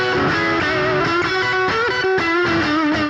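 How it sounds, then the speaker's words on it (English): An isolated electric guitar track with distortion plays alone, with no other instruments. Sustained overdriven notes bend and shift in pitch over a few seconds, loud and close, before stopping abruptly. "So the next step up would be just remove the music and use the isolated guitar track,"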